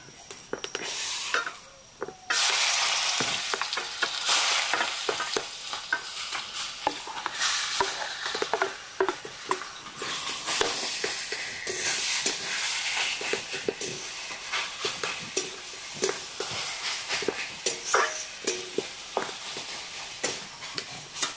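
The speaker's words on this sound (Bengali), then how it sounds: "তেল গরম হয়ে গেছে, তেলে দিয়ে দিব অল্প একটু পাঁচফোড়ন, আর দিয়ে দিব এই যে পোড়া পেঁপেটা" Roasted raw papaya and panch phoron spices fry in hot oil with a loud, busy sizzle that flares up sharply at first, then keeps crackling and hissing under repeated stirring.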